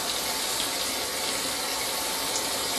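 Water trickles steadily into a toilet bowl from a fast, constant tank leak, a continuous close hiss that holds even for the whole stretch with no voices.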